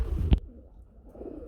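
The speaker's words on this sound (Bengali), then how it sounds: "আমরা দেখতে পাচ্ছি বন্ধুরা আরেক জোড়া কবুতর, রেসার কবুতর ভাই" A racer pigeon gives a single short, low coo close by, followed by quiet murmuring background.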